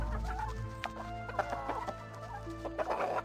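Chickens clucking in a farmyard in the video game Baldur's Gate 2, a series of close, irregular clucks and squawks over a low background hum, with no talking.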